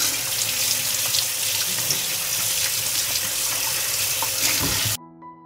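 Fresh peppers rinsed under a running tap, a steady close rush of water splashing into a sink that stops abruptly near the end, with no talking.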